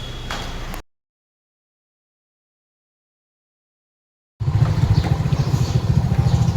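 Motorcycle engine running on a delivery round, heard briefly at first, then cut to silence before a loud, close, throbbing engine note returns and continues steadily.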